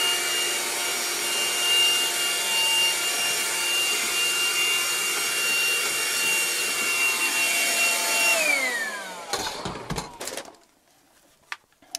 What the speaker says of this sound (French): je peux aller aspirer toute la caravane